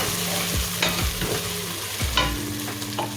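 Ground garlic and ginger sizzle in a pot of jollof rice base while a spoon stirs and scrapes. Several scraping strokes land over a steady frying hiss, and no one speaks.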